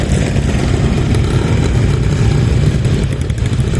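Classic motorbike engine running steadily at a traction engine and classic bike parade in Whitby, a dense, continuous low rumble, loud and close throughout with no talk.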